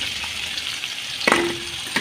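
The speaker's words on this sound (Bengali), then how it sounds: "এবার পেঁয়াজ আলু একসাথে লাল লাল করে ভাজবো" Onion and potato fry together in hot oil until reddish-brown, with a busy, close sizzle, and a metal utensil rings briefly against the pan once or twice.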